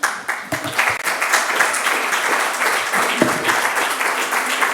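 Conference audience at the Instituto Médico Valenciano's 182nd anniversary commemorative event breaks into applause, a dense, loud round of clapping that starts abruptly and holds steady throughout.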